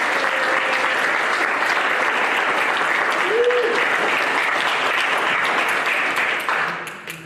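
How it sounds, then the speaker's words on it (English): A Hall of Fame ceremony audience in Canton, Ohio applauds steadily for about seven seconds at full strength, then the clapping tapers off at the end. "let's give a round of applause for all 5 of those involved"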